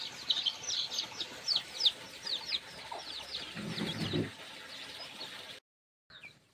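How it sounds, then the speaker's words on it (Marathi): Free-range desi hens cluck repeatedly in short bursts near the coop, with scattered chirps from chicks and a brief low thud before the sound cuts out near the end. "गावरान कोंबडी"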